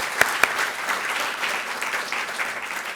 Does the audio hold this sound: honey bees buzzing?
no